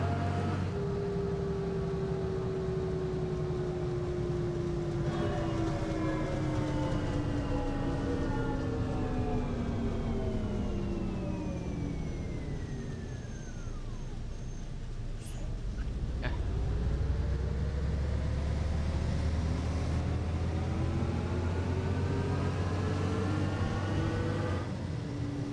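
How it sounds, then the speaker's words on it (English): Bus engine in the Omsi 2 bus simulator game on a Berlin–Spandau route, a loud droning motor whose pitch falls then climbs again as the bus slows and pulls away, steady and close with no speech. "I can't hear him complain, the engine is so loud."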